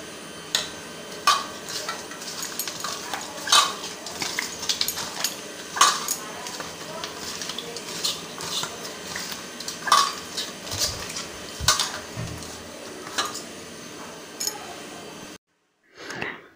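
Fish frying in hot oil in a kadai at home, a steady sizzle with repeated clinks and scrapes of a utensil against the metal pan, up close.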